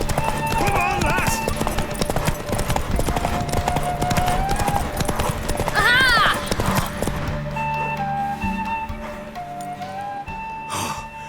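Horse hooves clip-clop steadily in The Witcher 3 video game, mixed with a whinny and snorts, under game music and speaking voices throughout.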